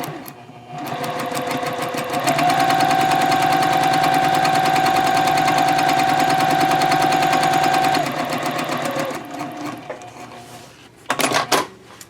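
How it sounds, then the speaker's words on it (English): Sewing machine stitching a straight seam at a stitch length of 2.5 on a messenger bag, a loud, rapid mechanical rattle running steadily for several seconds, then slowing and stopping, followed by a few clicks and handling noises. "You just want to sew a straight line."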